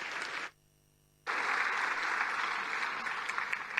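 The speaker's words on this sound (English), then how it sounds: "let's welcome to the stage with a big round of applause, Professor Amnon Shashua" An audience at a conference on artificial intelligence applauds, a broad, even wash of clapping that drops out briefly near the start, then returns and carries on at moderate distance.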